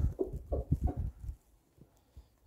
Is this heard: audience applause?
no